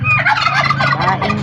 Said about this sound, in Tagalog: Ito po ang mga pabo.